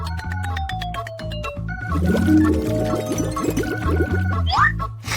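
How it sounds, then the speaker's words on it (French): Melted marmalade pours into a mould with a thick, gloopy liquid flow. Light bubbling and squishing sit under a loud, busy mix of tonal music or effects. "Je le verse dans un moule"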